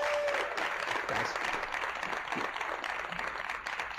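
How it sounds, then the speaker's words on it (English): An audience at a talk on gender gives one round of applause for Damon Owens, a dense, steady wash of clapping from many hands that holds at an even level throughout. "just one round of applause for Damon Owens"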